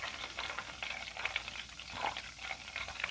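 Ghee bubbling in a pan, butter solids sticking to the bottom, a dense continuous crackle of small bursting bubbles with a soft sizzle, close and steady with no talking.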